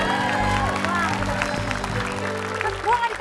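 A studio audience at a comedy variety show applauds a guest, a dense patter of clapping under music, with a voice calling out over it.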